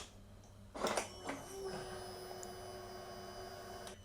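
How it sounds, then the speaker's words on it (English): A Yamaha R1 motorcycle fuel pump primes as the ignition is switched on: a brief click, then a steady, faint electric whine that hums on evenly to the end. "as you have heard, you heard the fuel pump"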